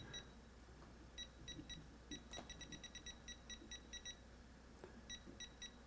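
A Milwaukee 2222-20 circuit finder held at a breaker panel gives bursts of fast, high electronic beeps in quick repeated groups, faint but clear over a low background hum, with no talk.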